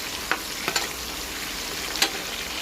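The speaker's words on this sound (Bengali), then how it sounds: "তো তেল গরম হয়ে গেছে, এখন আমি এর মধ্যে পেঁয়াজ দিয়ে দিব। সবটুকু পেঁয়াজ দেওয়া হয়ে গেছে, এখন আমি এই পেঁয়াজগুলো লাল লাল করে ভেজে নেব।" Onions sizzle steadily in hot soybean oil in a pan for a duck curry, a close, constant hiss with a few soft stirring scrapes and clicks rising above it.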